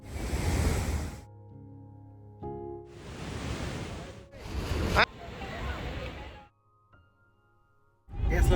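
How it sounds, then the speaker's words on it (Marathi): Heavy spray from Niagara Falls pours down on people aboard the Maid of the Mist boat, a loud roaring hiss in long bursts broken by brief quieter gaps, with wind buffeting the microphone. "डोक्यावरती आलं पाणी पडतंय तुझ्या डोक्यावर."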